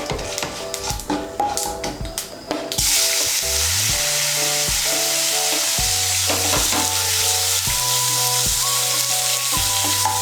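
Chopped tomato hits hot oil and bursts into a loud, steady sizzle, accompanied by repeated metal spatula scrapes and clinks against the pan; a few clattery knocks come before the frying starts.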